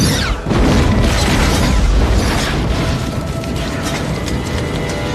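A loud, booming explosion as an alien weapon shoots down a helicopter in an alien-invasion film, with a sharp onset followed by a dense, rumbling roar that fades slowly over several seconds.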